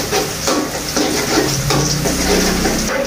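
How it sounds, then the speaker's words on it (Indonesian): Shallots fry in hot oil for a chili sambal, giving a loud, steady crackling sizzle with occasional stirring scrapes, close up and with no talking. "sebelumnya aku mau goreng dulu bawang gorengnya yang untuk si cabai"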